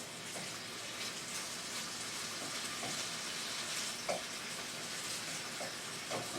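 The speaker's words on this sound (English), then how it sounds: "Let's get the meat in the pan." Beef for Beijing beef fries in a hot, shimmering pan, a steady, fairly quiet, continuous sizzle with a couple of brief pops and scrapes.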